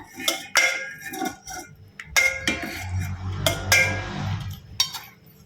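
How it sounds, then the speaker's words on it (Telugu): Hot milk being stirred into custard powder in a bowl, with repeated clinking and tapping of a spoon against the bowl in uneven bursts, fairly close and clear, no talking. "దీన్ని బాగా ఉండలు లేకుండా కలుపుకోవాలి"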